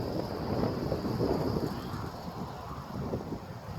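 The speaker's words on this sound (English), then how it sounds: "Oh, there's a little gust though." A gust of wind at a MidNite 250 Wind Curve Freedom 2 wind turbine rushes over the microphone as a steady, rumbling roar that swells slightly and then eases, with no voices.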